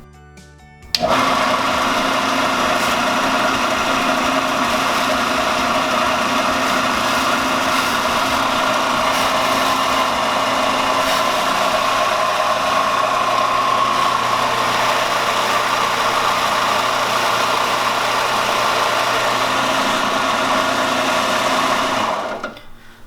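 A belt sander sanding foam runs steadily for about twenty seconds, a loud high-pitched whirring drone that starts abruptly and cuts off at the end.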